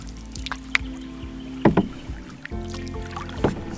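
Canoe paddle strokes dip and pull through water in a narrow rocky gorge, a few close, distinct splashes and drips spaced irregularly over a quiet background.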